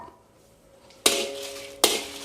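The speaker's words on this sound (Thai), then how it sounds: "ตั้งกระทะคั่วพริกก่อนเลย ใช้ไฟกลางๆได้เลยนะครับ ใส่พริกแห้งเม็ดเล็กลงไปหนึ่งกำมือใหญ่ๆเลยครับ" Small dried chilies dry-roasted in a pan over medium heat, heard as two sharp, bright clattering bursts against the metal after a quiet stretch.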